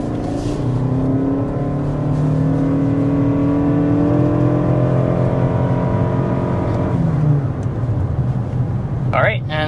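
A 2025 Toyota Crown Signia hybrid with 246 horsepower accelerates hard to 60 mph, a loud, steady drone rising in pitch as speed builds, then easing off with a shift in tone near the end.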